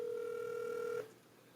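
A steady telephone tone, likely the line ringing out on a call to a friend, holds for about a second and then cuts off abruptly, leaving quiet room noise.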